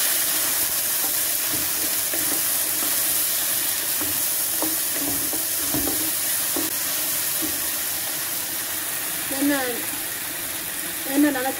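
Curry paste with cumin frying in oil for a homemade mee curry, a steady soft sizzle and hiss running throughout with a few faint clinks and stirs, close by.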